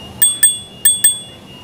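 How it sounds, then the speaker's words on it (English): A bright bell on a GoTrax G6 electric scooter rings four times in two quick pairs, clear and close, against quiet background. "A bell."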